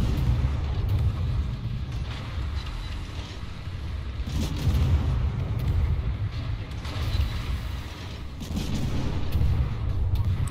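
In a naval video game, a warship fires HE shells, with repeated deep booming gun blasts rolling under a constant engine-like rumble, some louder volleys standing out.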